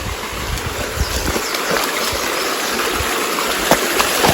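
A waterfall flows steadily while someone climbs it, a dense broadband rush of falling water close by, with occasional splashes and knocks rising out of the constant roar.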